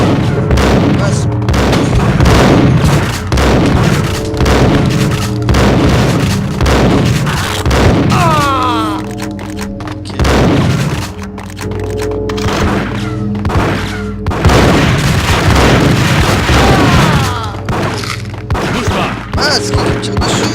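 Gunfire in the Max Payne video game as enemies shoot at the player: repeated loud booming shots and bursts with crashes and thuds through the scene, while someone talks in French over the action.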